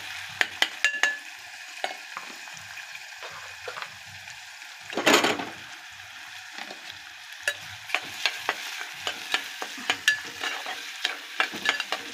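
Onion fries with garlic paste in a hot pan, a soft steady sizzle under repeated scraping stirs from a utensil, with one louder burst of hissing midway.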